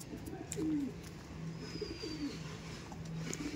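Andhra pigeons coo softly in a loft or seller's coop, low repeated rolling calls from several birds at a modest distance over a constant background hum, faint overall and without speech.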